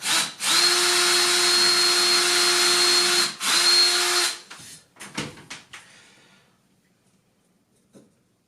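A power drill on its slow setting drives into wood for a wooden box, whirring steadily in two long runs with a brief pause between, then stopping, followed by a few knocks and clatters.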